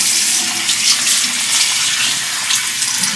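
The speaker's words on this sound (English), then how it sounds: "So right now I'm gonna wash it off." Tap water runs steadily into a sink during face washing, a loud, close, continuous splashing hiss with no talking.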